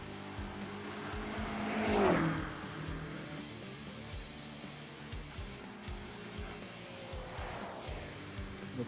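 A BMW GT3 race car on track during a charity race at Road America, its engine note rising and falling through shifts and a loud swell as it passes, with steady circuit noise underneath.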